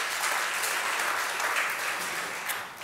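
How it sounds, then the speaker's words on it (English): Audience at a panel discussion in Tallinn claps steadily for several seconds, a bright, even wash of applause heard alone without speech. "Applause."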